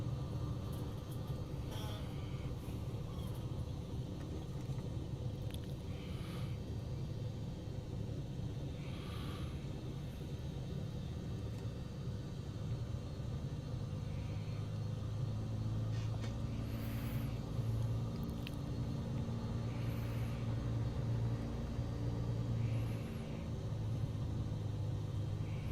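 Bonanza light aircraft engine in Microsoft Flight Simulator 2020, a steady low droning rumble that runs unbroken throughout, with faint higher clicks and blips scattered over it.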